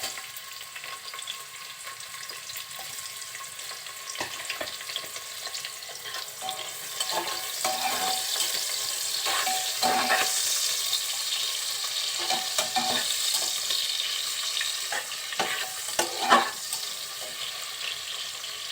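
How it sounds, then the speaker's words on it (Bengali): Chopped onions sizzle and fry in a pan for a country chicken curry, a steady close hiss with intermittent stirring scrapes and clicks that grow busier midway, no voices present. "এখন দিয়ে দিচ্ছি কেটে রাখা পেঁয়াজ,"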